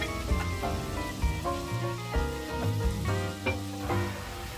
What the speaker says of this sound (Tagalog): let's fry our chicken cubes for at least a minute. Fry it to our butter.